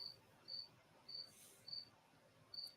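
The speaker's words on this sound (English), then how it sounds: "there's a cricket in the room here" Indoors, a single cricket chirps in short, evenly spaced bursts about every half second, faint against a quiet room.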